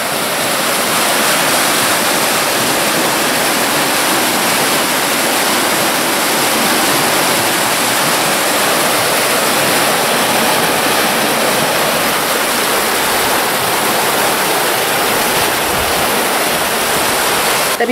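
A flooded stream rushes loudly and steadily during heavy rain floods near Disneyland Paris, a dense, continuous roar of water that never lets up, heard close with no voices.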